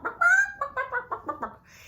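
A human voice imitates clucking chickens, a quick run of about six rhythmic, nasal clucks after a longer drawn opening call, close and clear with no other sounds.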